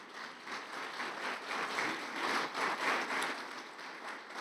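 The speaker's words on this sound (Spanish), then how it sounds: "Dele fuerte ese aplauso a Jesús" A church congregation applauds in a soft, continuous rush of clapping that sounds distant and faint, swelling slightly in the middle before easing off.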